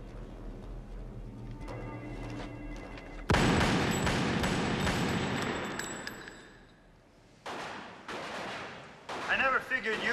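A volley of gunshots cracks out loud and sharp after a quieter stretch, followed by a fading roar and further scattered shots, with some background voices.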